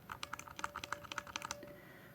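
Rapid keystrokes on a mechanical keyboard fitted with brown switches, a quick irregular run of soft clicky taps close up that stops after about a second and a half, leaving a quiet room.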